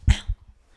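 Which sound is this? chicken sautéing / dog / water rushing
dog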